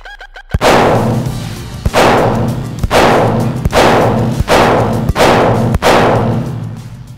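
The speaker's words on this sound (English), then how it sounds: "So, Travis, what I'd like to do is have you shoot it and show people what this gun really can do." A Para Expert Carry 1911 pistol fires about seven sharp, loud shots at a steady pace under a second apart. Each crack trails off in a long booming echo, with no talk between shots.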